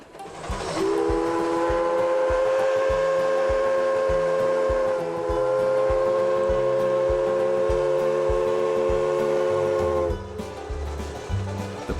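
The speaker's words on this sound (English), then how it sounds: "Here you can take a ride on North America's oldest climax steam engine." A 1910 Climax geared steam locomotive on the Durbin and Greenbrier Valley Railroad sounds a long, loud chime whistle for about ten seconds, with a brief dip midway, over rhythmic chugging and clanking rail noise.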